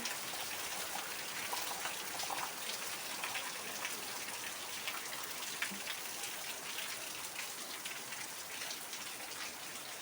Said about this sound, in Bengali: ভালোও লাগছে বৃষ্টি হচ্ছে কিন্তু আবার ক্ষতিও হচ্ছে বৃষ্টির জন্য অনেক